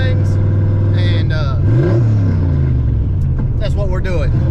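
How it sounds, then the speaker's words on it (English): A freshly tuned turbocharged HCI Fox Body car engine rumbles loud and close, with rising and falling revs and whooshing turbo sounds under a voice speaking over it. "Guys, we are in the turbo car."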